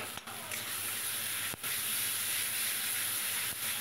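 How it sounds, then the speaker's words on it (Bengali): Steady, loud sizzling hiss of steam as a little water is added to egg curry masala in a hot pan, continuous for a few seconds with brief dips. "আর একটু জল দিয়ে দিচ্ছি, সামান্য জল দিয়ে আর একটু কষিয়ে নেব"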